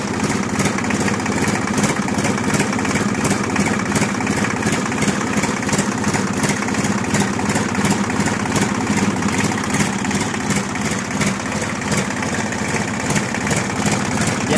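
A freshly assembled road roller engine with a newly tuned pump runs steadily at idle, a continuous mid-pitched mechanical drone with a fine rapid pulse, even in loudness throughout and with no voices.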